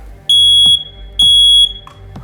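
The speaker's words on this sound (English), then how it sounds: "we're going to test this alarm, and you reach up, press the test button" A household smoke alarm being tested blares two loud, piercing high-pitched tones, each lasting about half a second with a short gap between them, close and dominant.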